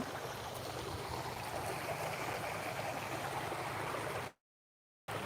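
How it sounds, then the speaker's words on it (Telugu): Strong, steady rush of water flowing beside a fishing pond among crop fields, a loud broadband roar that runs unbroken and then cuts off abruptly near the end. "మా బ్యాక్ సైడ్ నుంచి వాటర్ అయితే విపరీతంగా వస్తుంది"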